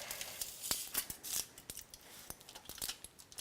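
Knife cutting through a pan of pecan cranberry brownies, a quiet series of irregular crisp crunches and scraping taps, close and soft.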